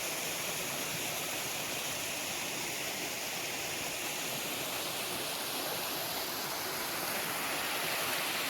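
Water rushes steadily over stones in a stream, a dense, even, fairly loud roar of flowing water that continues unchanged for the whole stretch, with no voices.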